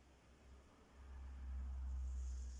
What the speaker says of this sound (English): Sorry if you can hear the traffic.